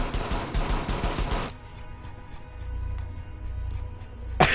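Rapid gunfire from an ACOG-scoped rifle in a competitive video game match, a dense burst of loud shots up front, then low ambient hum and a sharp final crack.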